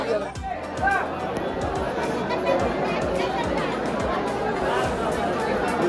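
A dense crowd of pilgrims chatters steadily in the darshan queue at the Ganagapur temple in Karnataka. The babble is close and continuous, with overlapping voices throughout.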